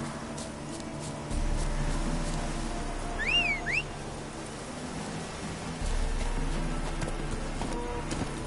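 Horse hooves from The Witcher 3 video game, a steady rhythmic clip-clop of galloping over a constant ambient outdoor bed, with a brief high whistling tone in the middle.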